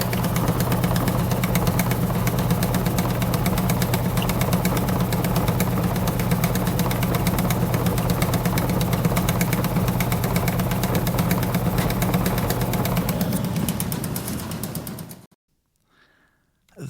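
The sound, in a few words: seed cleaning machine with shaking screen and winnowing blower fan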